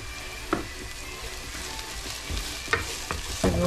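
Chives going into a hot pot of frying food and being stirred, a steady close sizzle with a few sharp scraping strokes of the spoon against the pan.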